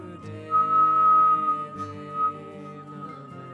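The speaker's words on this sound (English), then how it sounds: "you can start whistling while we inhale" A person whistles while inhaling during a breathing exercise, producing a sustained airy tone with a few shorter notes that rise and fade, with no talk over it.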